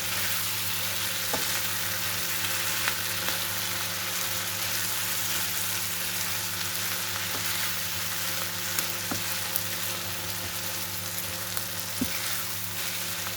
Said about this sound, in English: Stir well and fry for 1 minute so flavors melt together.